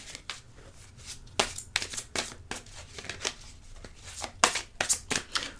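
Tarot cards being cut and shuffled by hand, a close series of crisp riffling and slapping bursts in an irregular rhythm, fairly quiet with no talking.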